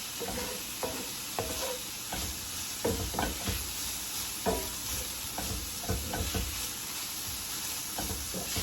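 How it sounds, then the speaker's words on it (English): Ground turkey sizzles in a pan with a constant crackling hiss, broken by irregular knocks and scrapes of a utensil stirring the meat. "while our turkey is cooking"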